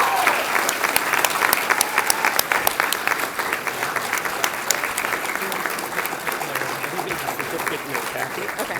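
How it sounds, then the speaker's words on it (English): An audience at a middle school eighth grade recognition program applauds award recipients, a loud, sustained, dense roar of clapping that continues for several seconds, with some talking mixed in. "So I'd like to give a round of applause"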